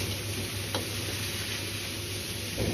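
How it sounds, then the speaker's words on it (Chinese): Shredded lotus root hits hot rapeseed oil and lard with ginger shreds, sizzling loudly and steadily as it is stir-fried, with a couple of soft spatula scrapes in the pan. "再倒入控乾水分的藕絲翻炒"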